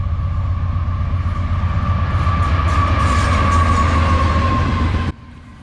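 A CSX intermodal freight train rumbles past close by, steady low roar with a ringing metallic whine, then cuts off abruptly near the end.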